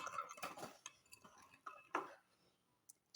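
Yogurt, spices and cooking oil being stirred together in a bowl for a chicken marinade, with a spoon clinking and scraping against the bowl in short, irregular bursts, fairly quiet and close, with no talking.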